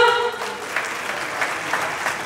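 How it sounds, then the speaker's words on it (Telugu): A crowd at a real estate company's first anniversary celebration in Nellore claps for the hero in a steady, dense wash of applause that follows a brief tone. The clapping runs through the clip with a few louder bursts. "మా హీరోకి ఒకసారి గట్టిగా క్లాప్స్ కొట్టండి కదా."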